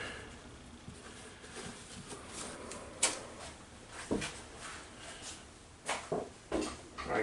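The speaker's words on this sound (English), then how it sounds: "So carefully opening up the package." Packaging of a Radio Shack 4x4 offroader RC car being opened carefully, with soft rustling and scattered sharp cardboard clicks and thumps at close range.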